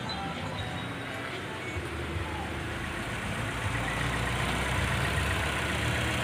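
A car engine idles steadily at about 800 RPM after its throttle body was cleaned, a smooth, constant low hum that holds without a break throughout.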